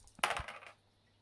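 Dice are rolled for combat in a Black Powder tabletop wargame, a single short clattering tumble onto a surface, close and fairly quiet, settling within half a second.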